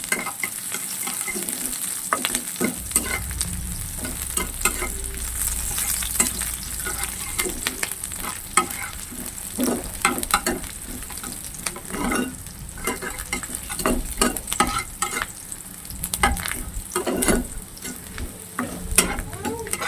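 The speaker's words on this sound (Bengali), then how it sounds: "পেঁয়াজটা হালকা লাল লাল করে ভেজে নেবো।" Onion sizzles and crackles steadily in hot oil in a pan for a Bengali potato and okra dish with small field crabs, with frequent scraping and stirring clicks throughout.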